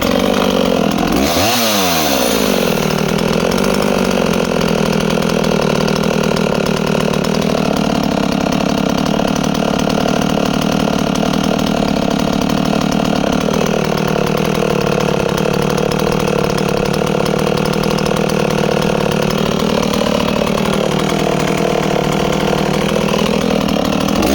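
A Husqvarna 61 chainsaw engine idles loudly and continuously, its pitch rising and falling slightly at intervals after a short startup rev.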